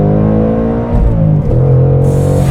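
A 2021 Ford Mustang Mach 1 with a 5-liter V8 and valved exhaust blipping through downshifts, a loud, close engine roar that dips and surges with rising revs, heard alone.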